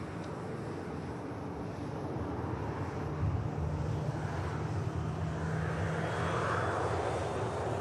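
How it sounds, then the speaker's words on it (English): An Emerald Airlines ATR turboprop touching down at Manchester Airport, a faint, distant, steady engine drone with a low tonal hum and rising whine heard on its own. "ATR touches down."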